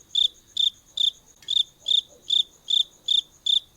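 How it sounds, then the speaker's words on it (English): Cricket chirping used as a sound effect: nine evenly spaced, loud, shrill chirp bursts in a steady rhythm, up close and heard alone without any talking. "So crickets."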